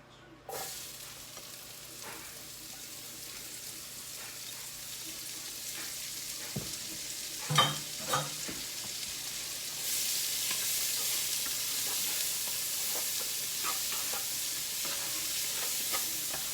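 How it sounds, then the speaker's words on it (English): Onions sizzle and crackle in hot bacon fat, a soft steady frying hiss with a few louder stirring clatters partway through. "All right, we got the bacon done. We're now going to add the onions."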